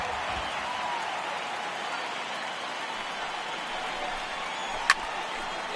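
A large ballpark crowd of around 22,000 roars in MLB The Show 18 during a Rays versus Royals game, a broad sustained cheer rising to its feet under an announcer's voice, with one sharp crack near the end.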